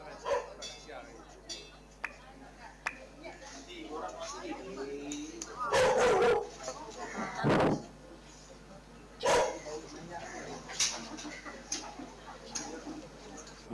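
A dog barks a few times at a people's tribunal session, short sharp barks scattered among background noise, with people talking throughout.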